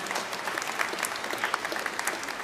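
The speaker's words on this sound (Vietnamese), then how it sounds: "chúng ta cho tràng pháo tay để cảm ơn Việt ngữ một tràng pháo tay" A church congregation at a Sunday Mass with a Christ the King procession applauds, a brief, fairly soft patter of many hands clapping together in a large room.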